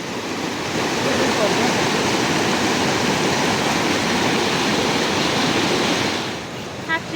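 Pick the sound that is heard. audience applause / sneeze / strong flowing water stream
strong flowing water stream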